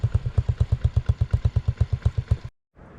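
A 2000 Yamaha TTR 90 single-cylinder dirt bike engine idles with a steady, rhythmic thumping putter, close by, then cuts off abruptly near the end.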